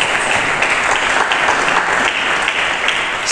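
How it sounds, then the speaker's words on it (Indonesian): Steady, dense applause from a large church congregation during a sermon, loud and continuous throughout with no pauses. "Mari kita berikan tepuk tangan bagi Yesus."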